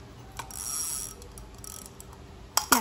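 A Japanese spinning fishing reel, size 10000, has its bail arm worked by hand: a soft mechanical whirring rasp, then two sharp, close snaps near the end, with no voices.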